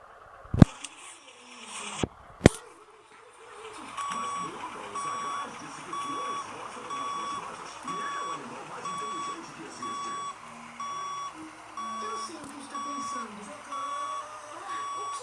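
A truck in a truck simulator game backs up with a steady series of evenly spaced reversing beeps under a low engine hum, following a few sharp clicks at the start.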